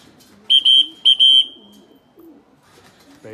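Racing pigeons at the loft entrance after a 156 km training flight, with a few clear, bright tonal calls in two short bursts near the start, then softer low murmuring and rustling from the birds.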